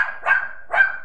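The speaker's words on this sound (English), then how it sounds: "Come here, doggy. Come on. And then shut up." A dog barks twice, close and loud, each bark a short strong burst with a brief gap between them.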